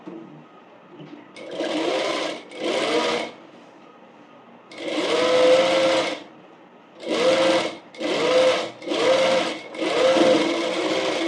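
A sewing machine top-stitches an umbrella frock in a tailoring class. It runs in several short whirring bursts separated by brief pauses, close and clear, with no talk over the stitching.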